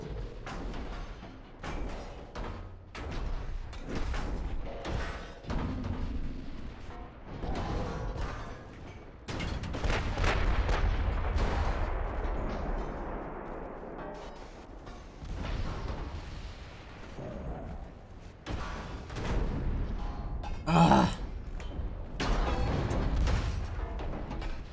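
Heavy battleship guns fire in the naval combat game Ultimate Admiral: Dreadnought, with repeated loud booms and thuds over a continuous rumbling battle din and one sharp burst near the end.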